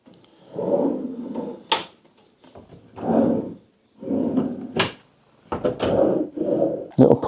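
Wooden drawers in a resort room slide open and shut several times, each pull a rumbling scrape of a second or so, separated by short sharp knocks and brief silences.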